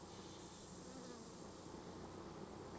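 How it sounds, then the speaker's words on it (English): Honeybees buzzing at an open hive, a faint, steady droning hum with a continuous swarm texture and no voices. "Now this hive is got plenty more bees than the other one had."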